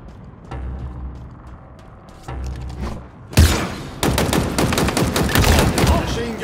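Dense machine gun fire in the Halo multiplayer game, with short bursts giving way to sustained rapid rattling and booms, loud and close, mixed with game effects and some announcer speech.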